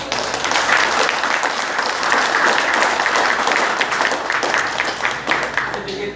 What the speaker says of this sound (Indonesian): Tepuk tangan untuk tim